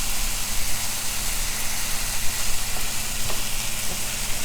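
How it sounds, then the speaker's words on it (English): Onions and tomatoes cooking in a pan give a soft, even sizzle under a low steady hum, with a couple of faint clicks. "I'm gonna cook my onions and tomatoes"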